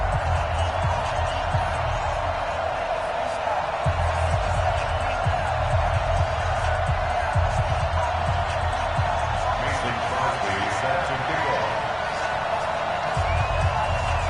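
A simulated stadium crowd rumbles steadily in an EA Sports NFL game between the Arizona Cardinals and New York Giants, a dense continuous roar under a commentator's voice.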